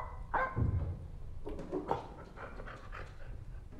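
A dog pants in quick breathy bursts and lets out a few short barks and whimpers nearby, fairly quiet, in a dark room at night.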